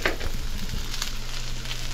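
Ginger frying in a hot pan for chicken curry, a steady close sizzle with a brief stir at the start, no voices.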